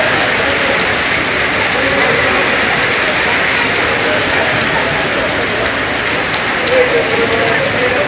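Heavy rain pours down in a loud, unbroken hiss that stays steady throughout, with a gusty, windy roar underneath, during a storm in Chandpur.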